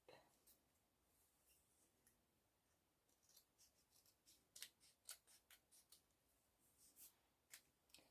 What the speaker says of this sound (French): Alors je vais prendre le ciseau.